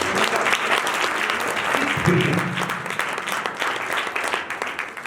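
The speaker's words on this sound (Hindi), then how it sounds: "जोरदार तालियां दें" Loud, dense applause from an audience at a talk, sustained and fairly close, with the clapping thinning slightly toward the end.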